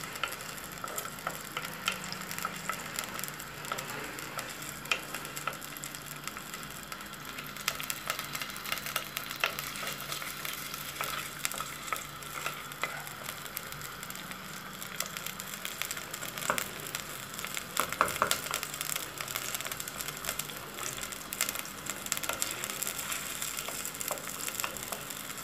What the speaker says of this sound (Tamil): பாருங்கள், பூண்டும் சின்ன வெங்காயமும் நல்லா இந்த மாதிரி பொரியுதுங்க